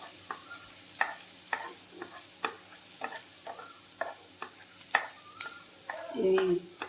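Thinly sliced ingredients fry in a pan over a medium flame for restaurant-style pasta, with a soft, steady sizzle broken by regular scraping stirs, ending in a louder clatter.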